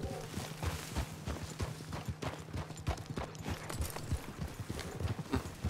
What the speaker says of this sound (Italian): Si sentiva il cavallo tu.